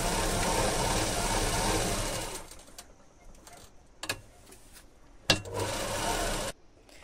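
A sewing machine stitches fabric onto handbag boxes, running in a steady whirring burst for about two seconds, then falling quiet apart from a few short sharp taps and one brief restart.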